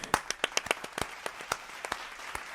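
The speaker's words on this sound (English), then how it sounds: "Everyone give him a round of applause." Sparse, quiet clapping from a small group, a dozen or so separate claps in an uneven rhythm, with no cheering.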